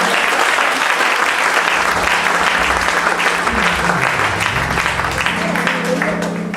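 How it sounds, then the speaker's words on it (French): A church congregation at a Sunday service at Dominion Cathedral in Lomé, Togo, bursts into loud, sustained applause that fills the whole stretch, with a little shouting mixed into the dense clapping. "Nous allons applaudir les femmes."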